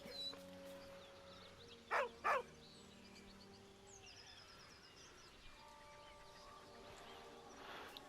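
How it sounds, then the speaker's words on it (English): In Baldur's Gate 3, a dog lets out two short, close whining yelps in quick succession over a quiet background of faint chirps and soft tones. "a deep, heartbroken whine, the dog bows his head"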